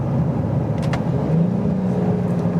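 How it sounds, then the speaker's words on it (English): Honda Ridgeline pickup engine downshifting into third gear while approaching a hill, a steady low hum and rumble from inside the cab with a slight change in pitch, no talk. "There's downshift, we're in third."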